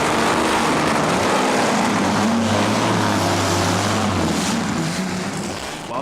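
Pre-war Mercedes-Benz and Auto Union Silver Arrows race cars on the circuit at a period motor racing revival meeting, a loud continuous engine roar with a droning tone that swells through the middle and then begins to fade.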